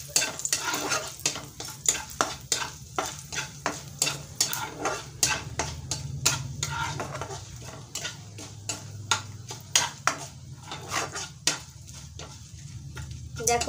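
Three dried red chillies fry in a little oil for a jujube pickle, a soft sizzle under frequent sharp clicks and scrapes of a spatula stirring against the pan, moderately close and fairly quiet.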